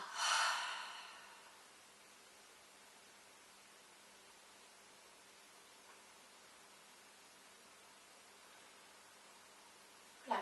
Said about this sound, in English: a nice deep exhale out through the mouth